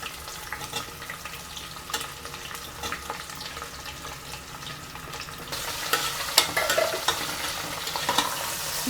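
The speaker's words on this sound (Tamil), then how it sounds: "வெங்காயம் நல்லா பொன்னிறமாக வதங்கணுங்க." Sliced onions sizzle and crackle steadily in a hot pan for mint biryani, with occasional stirring scrapes, the frying growing louder and brighter partway through.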